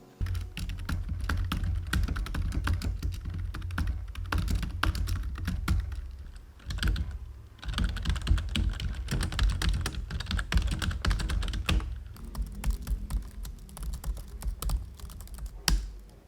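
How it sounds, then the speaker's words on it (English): Typing on Logitech MK220 and Logitech K375S keyboards: a steady, close run of quick key presses with dense, even clatter and brief pauses, with no talking. "The MK220 keys sound and feel packed and stable compared to the loose feeling and clicky sound of the K375S."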